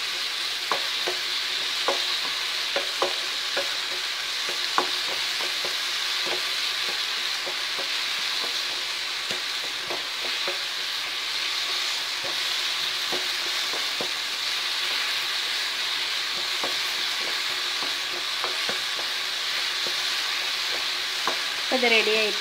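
Banana pieces and sugar cooking in a pan for a pancake filling, a continuous soft sizzle with frequent light scraping and tapping of a spoon as the mixture is stirred, close and steady.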